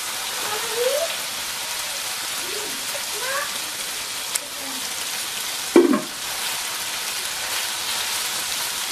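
Vegetables sizzle steadily in a frying pan for chicken macaroni, a dense hiss with occasional scraping strokes of stirring and one louder clatter near the end.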